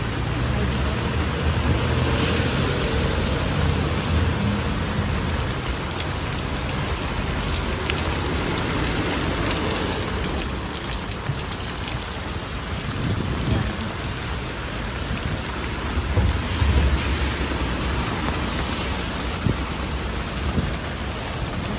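Heavy, continuous rain falls in Singapore, a close, dense and constant hiss of drops on surfaces, with occasional low rumbles swelling beneath the downpour.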